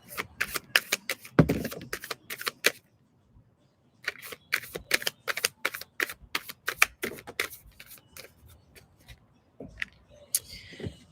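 Tarot cards are shuffled and drawn in quick bursts of crisp, snappy riffling clicks, separated by short pauses, loud and close with no voices.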